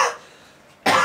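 Two short, harsh coughs from one person, close and loud, separated by a brief pause.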